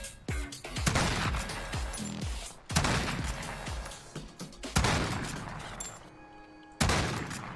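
Cold War-era guns firing in a shooter video game, loud sharp shots arriving in separate bursts roughly every two seconds, each with a decaying tail and occasional metallic clatter between them.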